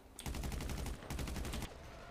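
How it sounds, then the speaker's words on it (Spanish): Gunfire in a GTA role-play video game: two rapid automatic bursts, each about half a second to a second long with a brief gap between them, loud and close, with no talk over them. "¡Hostia! Disparan."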